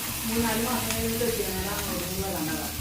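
Ingredients sauté in hot oil for a fish curry, giving a continuous close sizzle and frying hiss while a voice talks over it.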